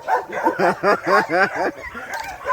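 Dogs raised on a hillside dog farm in Jamaica, barking in a loud, close series of about eight rhythmic barks, trailing off at the end.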